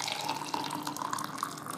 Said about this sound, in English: pour in my hot water